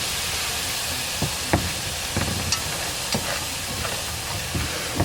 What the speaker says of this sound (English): I'm going to start adding my beef stock because I want to kind of deglaze the pan